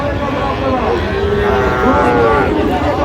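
Sahiwal bull calves and cattle at a busy rural livestock market in Dinajpur, with a loud, close, drawn-out low moo rising over a noisy crowd murmur.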